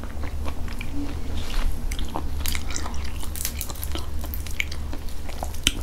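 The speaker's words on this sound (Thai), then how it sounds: "เห็นมันปูต้องตักกินแบบนี้เพราะว่าเป็นดอกน้อยๆจ้ะ" Close-up chewing and biting while eating Thai rice noodles with three kinds of mushrooms, with soft wet squishes and small crunches over a steady low background hum.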